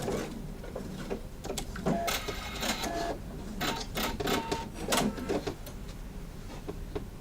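A sewing machine runs a hand-look straight stitch, its needle mechanism chattering steadily and close up, with a few louder mechanical clacks and no talk.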